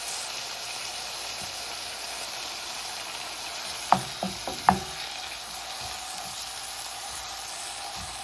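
Spices frying in a hot pan for a cottage pie, a steady close sizzle throughout with a few brief clinks and scrapes from stirring midway, no talking.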